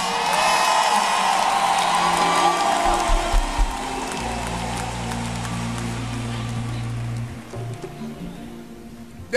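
A church congregation claps and cheers during a sermon, with a loud wash of whoops and applause that eases after a few seconds into a quieter murmur over a sustained low tone.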